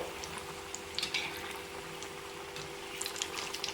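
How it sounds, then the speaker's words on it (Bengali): Four vegetable chops deep-frying in hot oil, Kolkata street-food style, giving a steady close bubbling sizzle with scattered crackling pops and no talking. "ভেজিটেবিল চপটা বেশিক্ষণ ভাজতে লাগে না দু তিন মিনিট ভাজলেই হয়ে যায়"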